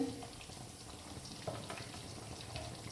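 Besan-coated fish fries in oil with a faint, steady sizzle and soft bubbling crackle, quiet and even across the short stretch.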